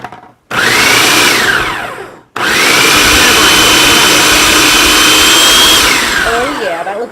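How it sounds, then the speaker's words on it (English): A blender pulsing frozen raspberries roars loud and close in two bursts, a short one and then a longer one, with a pitch that rises and falls as the motor spins up and slows, ending in a brief rattle. "And then we're just gonna pulse this."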